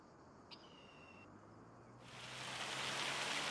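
Rain starting in Farming Simulator 25 on a farm in Ray County, Missouri, a soft hiss swelling from quiet into a steady broadband downpour over the last second and a half, with no talking.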